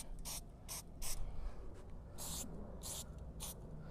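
Short hissing spray bursts from an aerosol spray paint can while painting a mural, about six of them in an uneven rhythm, close by over a low background rumble.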